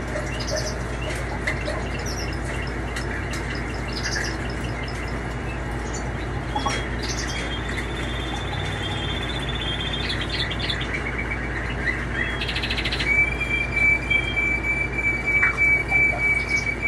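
A pet bird near its water dish gives scattered high chirps and brief wing flutters in a quiet room, with a few sharper calls and rustles toward the end and no talking.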